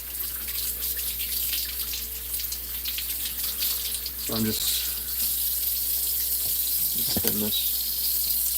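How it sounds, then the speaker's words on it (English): Hot tap water runs steadily into a kitchen sink as a refrigerator-cold egg is rinsed under it, a constant close hiss with a couple of brief knocks, while a person talks briefly over it. "I'm just rinsing this under hot water so I can make it not as cold."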